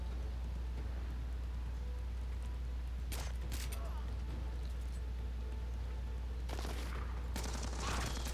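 Gunfire erupts in Splinter Cell: Blacklist at a rebel fortification, a few sharp bursts of shots over a steady low rumble, with a voice talking nearby.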